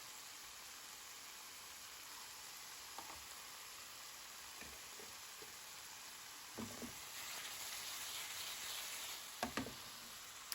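Bacon sizzles and crackles in a pan, a constant hiss broken by a few soft clinks of stirring, fairly quiet and close.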